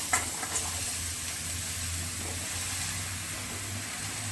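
Finely chopped bottle gourd hits a hot pan with turmeric, a brief clatter then a steady soft sizzle and hiss as it is stirred, close and even.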